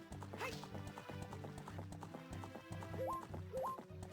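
Rhythmic clip-clop of horse hooves in The Legend of Zelda: Ocarina of Time, over a musical backdrop, with a couple of short rising electronic tones near the end.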